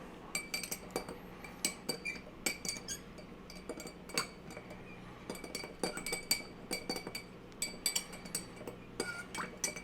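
Old Fashioned cocktail being stirred in a glass with a bar spoon, giving a steady run of light clinks and chimes of metal against glass, close and moderately loud with no talking.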